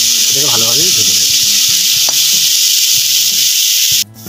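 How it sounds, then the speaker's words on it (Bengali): Gima greens with pointed gourd peel fry in a pan, a loud steady sizzle broken by scraping, rubbing stirs and a brief clatter near the end. "এটাকে ভালোভাবে ভেজে নেব।"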